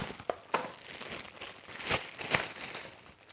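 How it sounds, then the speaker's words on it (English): Soft crinkling of a plastic bag, with a few sharper rustles and crackles as it is handled up close. "So then I take plastic bag."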